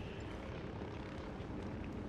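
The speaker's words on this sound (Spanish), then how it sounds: "Bueno, los helicópteros..." Helicopters in the video game Ghost Recon, a steady dense rotor and engine drone with broad noise, continuous and fairly loud across the whole stretch with no talk over it.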